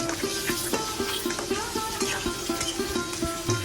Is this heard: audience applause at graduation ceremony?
no